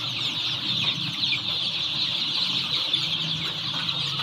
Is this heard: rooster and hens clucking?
yes